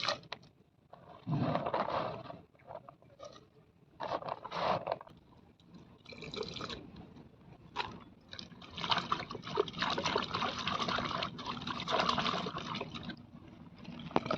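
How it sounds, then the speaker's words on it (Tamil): Chopped banana flower is washed in a pot, with water sloshing, trickling and scraping in bursts, close and fairly quiet, without any talking. "சட்டியில் போட்டு கழுவி அப்புறம் வேக வச்சுக்கலாம்"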